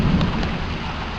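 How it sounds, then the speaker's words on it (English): A big storm directly overhead, with heavy rain pouring steadily onto surfaces under a deep, loud rumble of thunder, close and continuous through the moment. "This storm is right above our head."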